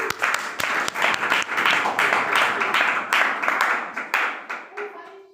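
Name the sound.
applause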